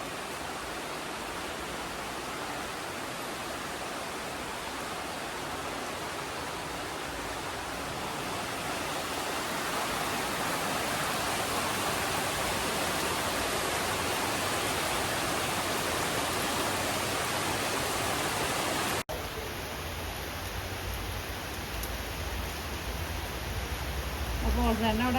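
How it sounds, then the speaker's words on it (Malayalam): Heavy rain pours steadily at a house in Kerala, a dense, continuous hiss that builds slightly louder midway, with a sharp change in tone near the end and a brief high whine. "ഇന്നിട്ട് ഞാൻ വന്നിട്ട് നന്നായിട്ട് മഴ പെയ്യുന്നത്."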